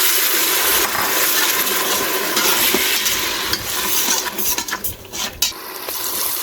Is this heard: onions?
yes